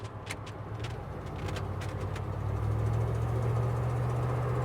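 A 1965 GMC 1000 pickup truck engine runs steadily nearby, its low rumble swelling louder midway and holding, with a few faint clicks and knocks over the top.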